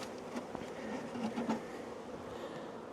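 Honey bees buzzing around an open beehive during an inspection, a dense continuous drone with many overlapping close wingbeats holding at a steady level.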